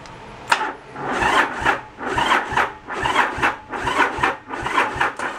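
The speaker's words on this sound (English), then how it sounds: "Oh, it cranks." The engine of a 1986 Yamaha Virago 1100 motorcycle cranks on a jumper pack without starting. The starter churns close by in a steady, rhythmic pulse, about two turns per second, and no one speaks.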